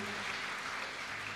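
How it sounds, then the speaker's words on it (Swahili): A Sunday church service congregation claps together in a brief, dense burst of applause that fills the whole moment evenly. "tupige makofi vizuri"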